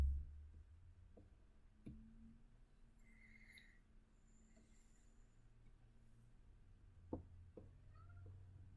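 A house cat meows indoors, a few faint short calls over a quiet room with scattered light knocks.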